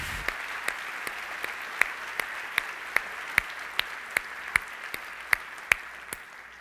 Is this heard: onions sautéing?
no